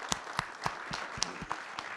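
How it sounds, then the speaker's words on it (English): A few separate hand claps at an event's opening remarks, roughly eight sharp beats in a loose, uneven rhythm, fairly close and with no talking. "So let's give her a round of applause for that."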